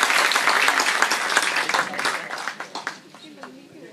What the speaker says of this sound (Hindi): एक बार जोरदार तालियां बजाकर हम बिटिया का अभिनंदन करेंगे।